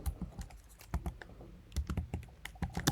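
Someone types rapidly on a computer keyboard, close up, with a steady stream of sharp, quiet key clicks that briefly slows around the middle. No one speaks.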